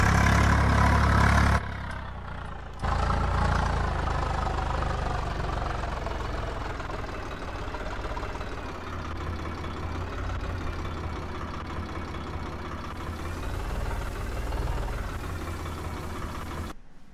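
A tractor engine runs in Farming Simulator 22 with a steady, loud mid-low drone, briefly cutting out near the start before resuming and holding at a constant pitch in top gear, with no talking.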